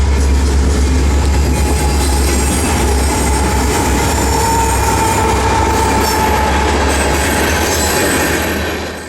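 CSX southbound K421 freight of ethanol loads for Tampa, led by two Canadian National EMD SD75i locomotives, rolls past close and loud, a steady roar of engine rumble and rail wheels with a squealing tone throughout and no talk, fading slightly at the end.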